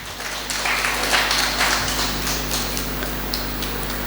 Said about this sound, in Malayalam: രണ്ടുപേർക്കും നല്ലൊരു കൈയടി കൊടുക്കാം.